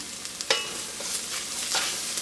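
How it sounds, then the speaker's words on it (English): Garam masala, tomato paste and spices stirred in a hot pan, with steady soft sizzling and occasional scrapes of the spoon, fairly quiet and close. "Get this stirred around together"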